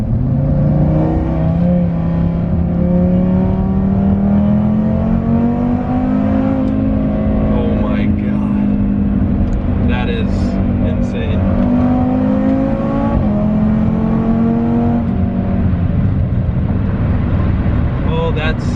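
A 500 whp Audi RS3 accelerates hard on a highway. Its loud engine note climbs steadily through several long pulls, heard from inside the car over constant road and wind roar.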